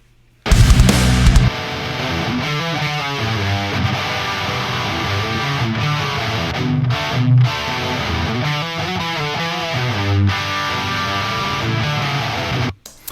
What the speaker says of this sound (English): it's pretty much a guitar riff right out the gate